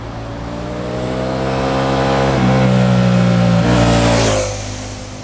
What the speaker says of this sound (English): that's absolutely not the case with these Diavel V4s and XDiavel V4s, because they really do love to rev out